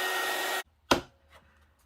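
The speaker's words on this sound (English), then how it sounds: "I'm just going to use the heat gun just to dry that off so I can keep going." A heat gun blows over a paper craft project, a short steady rushing whoosh that cuts off abruptly, followed by a single sharp click and quiet.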